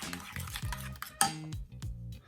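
Utensil stirring cacik, a yogurt dip, in a bowl: a series of close scraping and clinking strokes, with brief bright taps against the rim in an irregular rhythm.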